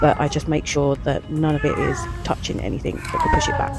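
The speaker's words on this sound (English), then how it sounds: "that's my cat in the background" A pet cat meows in the background of a room where sheet vinyl flooring is being laid, its cries mixed under continuous nearby speech.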